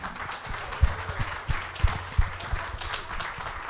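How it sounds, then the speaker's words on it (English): A small studio audience at a live show gives a round of applause, sparse and fairly quiet clapping with a few distinct close claps spread irregularly across a few seconds and no speech over it. "How about a round of applause again?"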